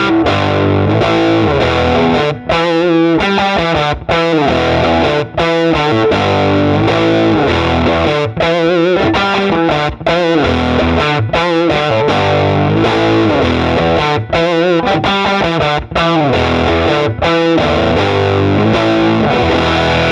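Loud, heavily driven electric guitar through a Fullerton amp, with hard-picked low strings producing saggy, compressed power-amp distortion in choppy rhythmic bursts with brief gaps, played alone without talking.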